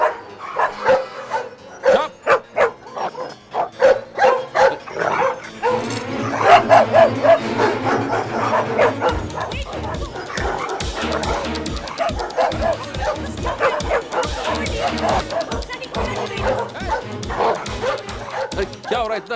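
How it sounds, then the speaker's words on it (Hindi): Several dogs barking and yipping loudly in rapid bursts, with some whimpering, a person talking over the commotion at times. "ओए कुत्ते लोग चुप."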